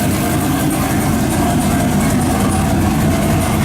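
A GM LS2 V8 swapped into a Porsche Boxster idles loudly and steadily up close, a continuous low rumble with a hissy broadband wash and no speech.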